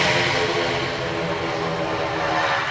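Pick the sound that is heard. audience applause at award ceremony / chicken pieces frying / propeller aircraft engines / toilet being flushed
propeller aircraft engines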